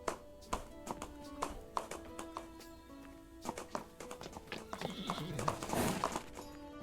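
Video game horse hooves clip-clop in scattered taps, with a horse whinnying near the end.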